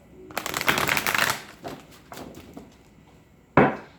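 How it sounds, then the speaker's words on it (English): Tarot cards are riffled and shuffled up close, a fast flurry of papery flicks, a pause with a few soft taps, then one sharp final riffle. "1 last shuffle."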